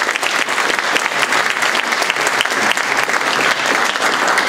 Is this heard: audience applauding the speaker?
yes